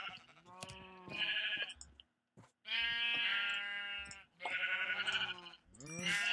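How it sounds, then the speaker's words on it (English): Several sheep in a video game bleat loudly and repeatedly at close range, long wavering cries overlapping one another with brief gaps between. "Sheep!"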